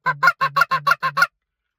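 A stalled cluck on a hand-blown goose call, eight quick, loud, honking notes in a tight even rhythm, close and alone, ending abruptly into silence.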